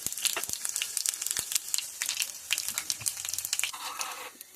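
Cumin, coriander and fenugreek seeds dry-roasting in a pan, a dense stream of crisp crackles and popping ticks with light sizzle, close and continuous, ending in a softer hiss.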